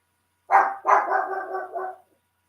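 A dog barks at its reflection in a sliding glass door indoors: two sharp, close barks followed by a drawn-out, whining bark-howl, loud and alone, ending in silence.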